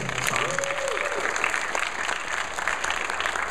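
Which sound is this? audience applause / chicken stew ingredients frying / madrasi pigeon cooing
audience applause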